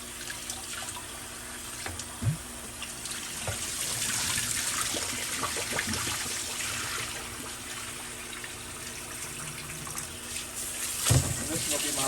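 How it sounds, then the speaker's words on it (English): Tap water runs in a steady, broad wash while rice is rinsed in a home kitchen, close and continuous with small splashy surges throughout. "And this is going to be my last rinse."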